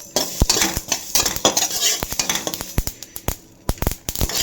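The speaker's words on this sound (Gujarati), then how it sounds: "જીરો ગેસ રાખ્યો છે એકદમ અને સાવ સિમ્પલી શેકવાનું છે" Ingredients for kachori stuffing dry roasting in a pan on very low gas, stirred steadily with a metal spoon that gives close, rapid scrapes and clinks against the pan, with no talking.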